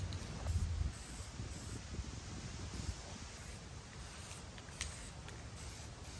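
Spray paint going onto a BMX frame, a steady close hiss of aerosol with slight pulsing bursts, continuous and fairly soft, no voices.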